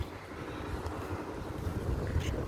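Wind blows across a rooftop vegetable garden, a low gusty rumble buffeting the microphone, close and fairly faint, with no voices.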